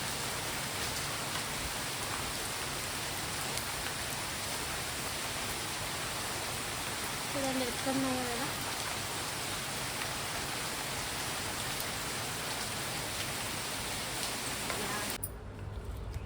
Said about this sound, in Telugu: ఈ టైంలో ఈ విధంగా పడుతుంది వర్షం.